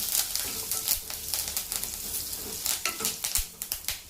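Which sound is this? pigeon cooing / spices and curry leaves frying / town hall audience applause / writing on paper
spices and curry leaves frying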